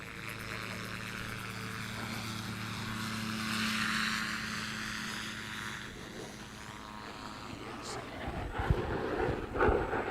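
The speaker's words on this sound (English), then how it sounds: "we've got some jet activity here" Aircraft at the Sun 'n Fun 2021 fly-in: a broad, sustained roar that swells and fades as a plane passes overhead, heard over steady wind noise from an open-cockpit ultralight, with rattling bumps near the end.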